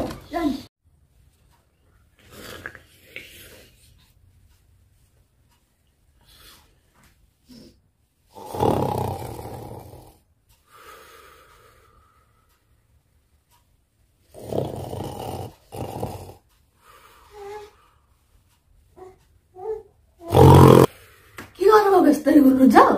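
A man snores loudly while sleeping, heavy rasping breaths coming in separate bursts with quiet gaps between them, and people talk in between and over the snores.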